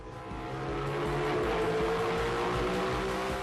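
A six-metre racing powerboat's 9-litre, 1000-horsepower engine roars loud and steady at a race start at Firebird Lake, Arizona, its pitch holding high as it drives hard, with no voices over it.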